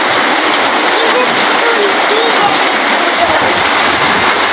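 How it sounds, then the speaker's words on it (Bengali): Heavy rain pours in a dense, loud, unbroken hiss, close and steady from start to finish. "অসাধারণ বৃষ্টি পড়তেছে আমাদের বৃষ্টির পানিতে"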